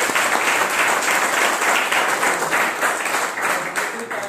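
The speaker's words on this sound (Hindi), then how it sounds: "मैं चाहूंगा उनके लिए जोरदार ताली" Loud, sustained applause from a seminar audience, dense clapping that carries on steadily for several seconds with no voices over it.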